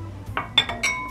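Spoon or whisk clinking against a bowl while sugar is mixed into æbleskiver batter, a few separate bright clinks and scrapes spaced irregularly, close and fairly quiet.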